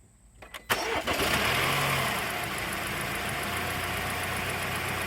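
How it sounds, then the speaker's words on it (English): A 2018 BMW X1 fires up after an air filter install: a couple of clicks, a sharp crank catch, then the engine settles into a steady, moderately loud idle close by. "Alright, the filter is installed. We're going to start the vehicle."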